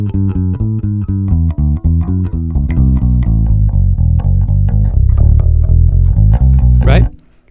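Jazz band playing the bridge of a standard, with a bass pedal point held under steady rhythmic piano chords and ride cymbal, loud and continuous before stopping abruptly.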